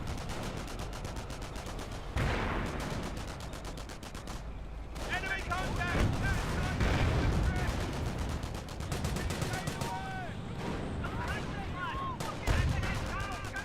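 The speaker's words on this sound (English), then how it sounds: "Mortar firing away over here now." Mortar fire in the World War II real-time strategy game Company of Heroes, with repeated booming launches and gunfire-like bursts throughout a busy battle mix, with commentary talking over it.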